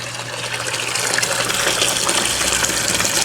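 Dirty water gushes steadily out of a washing machine as it drains, a continuous broadband splashing rush holding fairly loud and close for the whole stretch, with no talking over it.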